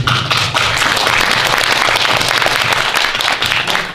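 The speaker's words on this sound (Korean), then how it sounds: "우리가 좀 박수 한번 좀 고맙다는 말씀을 박수 한번 쳐드리면 어떻겠습니까?" Sustained, loud applause from an audience at a Korean association's founding ceremony, a dense continuous rattle of many hands filling the room.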